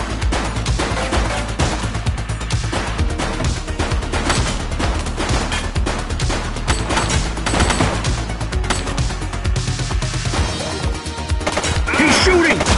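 Dense gunfire rattles nonstop in the PS5 police game The Precinct, with rapid bursts and loud impacts layered over a heavy, continuous soundtrack.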